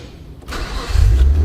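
A Toyota Supra running on E85 fuel cranks briefly and fires, settling into a loud, close, low rumbling idle that builds over a second or so.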